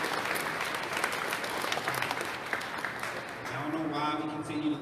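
A crowd gives sustained applause at an African Heritage Day event at the Minnesota state capitol, dense clapping throughout with a few voices rising near the end.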